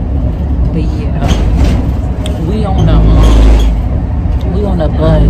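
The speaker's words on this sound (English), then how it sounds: "We on the bus. The shuttles." Airport shuttle bus in New Orleans, its engine and cabin rumble loud and close, with a hiss like an air brake, under continuous nearby talking.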